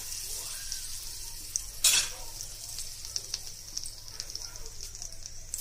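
Asafoetida hits hot oil in a kadhai, giving a steady sizzle with a sharp louder burst near two seconds, followed by soft crackling and occasional spatula taps.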